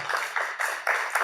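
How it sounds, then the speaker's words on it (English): Audience applause at a business event, a few rhythmic bursts of clapping from a small crowd, fairly close and moderately loud, coming in short pulses. "I got applause."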